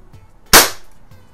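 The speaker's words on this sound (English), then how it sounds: "It's shooting." A Daisy 1200 CO2 BB pistol fires a single sharp, loud crack at close range, followed by a quick decaying hiss in an otherwise quiet room.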